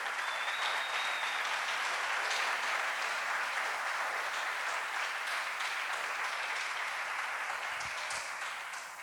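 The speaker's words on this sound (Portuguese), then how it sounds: "Aplaudam a Deus por isso" A church congregation applauds in a sustained, dense wash of clapping that holds steady and full for several seconds, with a brief faint tone and a few louder claps near the end.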